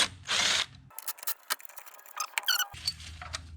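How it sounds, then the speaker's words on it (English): Ratcheting socket wrench clicks in short metallic bursts while loosening alternator bolts on a 1994-97 Ford 7.3 Powerstroke diesel engine, close up. A steady, louder whirring band sits at the start and end. "I'm gonna go ahead and finish removing these alternator bolts."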